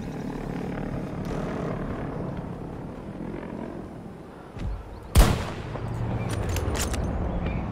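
A single loud gunshot from the video game Battlefield 2042 cracks out sharply over continuous engine and battle rumble, preceded by a softer thud.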